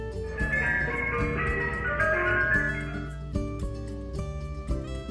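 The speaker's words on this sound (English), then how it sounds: "an ice cream truck's ding-a-ling-a-ling" An ice cream truck's tinkling chime melody plays steadily, bright and fairly close, over a soft musical background.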